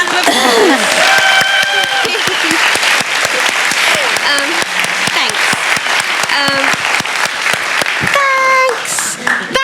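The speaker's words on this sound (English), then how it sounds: "Can I have a little round of applause?" Audience applause from hundreds of people at a festival talk, a dense, steady clatter of many hands that carries the whole stretch, with whoops and voices scattered through it.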